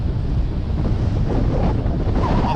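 Strong storm wind on the South Rhinns peninsula in Galloway batters the microphone at a campsite, a loud, continuous roaring buffet with no pauses and no voices.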